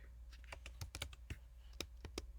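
Quick irregular keystrokes on a computer keyboard, a dozen or so close, crisp clicks in uneven bursts, quiet and alone.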